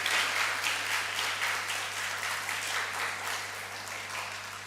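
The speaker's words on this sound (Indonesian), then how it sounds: "Tepuk tangan lagi dong." Congregation applauding during a church service, a moderately distant, even patter of many hands clapping, fairly soft and steady with a low hum underneath.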